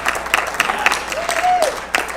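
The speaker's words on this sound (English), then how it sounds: "Let's give him a round of applause" Theatre audience applauding, a dense burst of clapping heard close and fairly loud for a couple of seconds, with a voice briefly sounding over it.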